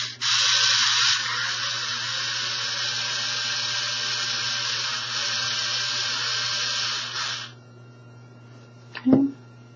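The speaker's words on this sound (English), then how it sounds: "I'm going to use my bigger quilling tool for this since there are longer pieces" A large electric quilling tool winds long paper strips, giving a loud, steady buzzing whir for about seven seconds before it stops, followed by a brief clunk.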